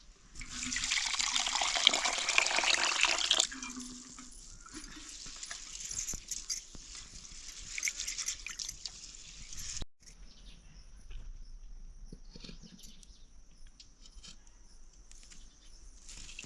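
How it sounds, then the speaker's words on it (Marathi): Rice being rinsed in water in a home kitchen while stuffed brinjal and rice are prepared, with a loud splashing, running-water wash for the first few seconds, then quieter dribbling and trickling with faint clinks. "आता इकडे तांदूळ धुवून घेऊ।"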